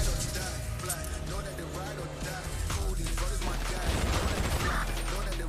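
Gunfire rings out in a GTA roleplay game session, with bursts of shots and mechanical clatter layered over a dense game soundscape while players talk over it.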